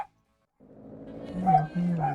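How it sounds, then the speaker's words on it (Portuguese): Dogs bark and yelp in GTA Vice City Stories on PS2, a short burst of tonal barks rising after a brief silence and standing close and fairly loud. "os cachorros tudo maluco agora"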